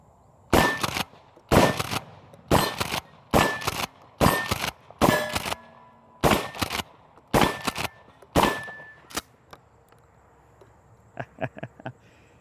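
A Mossberg 590S pump shotgun fires about ten loud, sharp blasts at a range, spaced roughly a second apart with some targets clanging, followed by a few faint distant pops.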